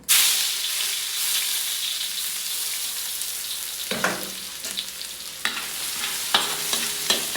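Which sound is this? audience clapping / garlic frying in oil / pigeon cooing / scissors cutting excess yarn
garlic frying in oil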